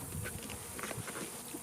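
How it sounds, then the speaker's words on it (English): A dense, steady buzzing of many honey bees in an opened hive during inspection, close by and continuous, with no voices. "These are the bees on the bottom."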